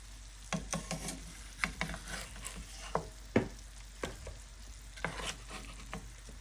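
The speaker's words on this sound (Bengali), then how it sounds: "ভাজা হয়ে গেছে তবে মাছগুলো পুড়ে যায়নি মাছ থেকে তেল বের হয়েছে" Fish pieces fry in oil in a pan, giving a quiet, steady sizzle broken by scattered crackles and soft pops.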